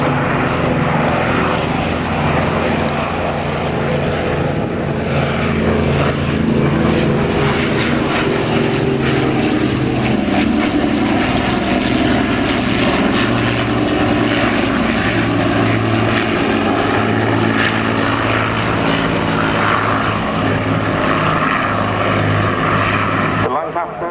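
Propeller aircraft flying in line astern formation at the RAF Cosford Air Show, a steady loud engine drone with a broad rumbling roar that swells and holds throughout, a commentator's voice talking over it.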